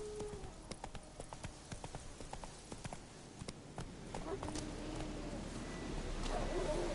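Hooves of the horse Roach clop in a quick galloping rhythm in The Witcher 3, sharp close strikes at first, then blurring into a rising rush of movement and ambience.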